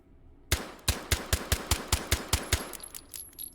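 Suppressed Dardick carbine with stock fitted, firing in the VR shooter H3VR: about ten sharp, evenly spaced shots in a steady semi-auto rhythm, close and crisp, with no talking.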